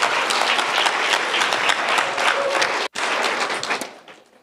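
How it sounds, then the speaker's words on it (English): Loud, dense audience applause after a cultural music program at a retreat, sustained clapping from a large crowd that breaks off abruptly for an instant, resumes, then tapers away toward the end. "One more round of applause, please"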